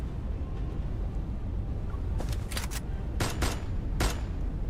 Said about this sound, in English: The sniper rifle hidden behind a stone pillar emits smoke as a bullet heads straight for Rafayel.